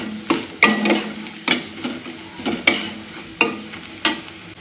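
Spatula scraping and tapping around a pan while turmeric and chili powder are mixed in, sharp clinks recurring roughly every half second to second, close and fairly loud with no talking.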